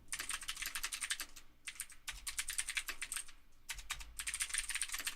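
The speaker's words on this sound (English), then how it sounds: "You're gonna hear me typing." Rapid clicking of typing on a computer keyboard, close and fairly quiet, in bursts of keystrokes separated by brief pauses.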